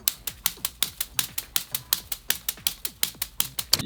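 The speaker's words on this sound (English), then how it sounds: "I'm gonna play on my hand, because it's good enough." A bare hand taps out a fast, evenly spaced sixteenth-note drum pattern with accents, about twenty sharp, close slaps in a steady rhythm with no talking.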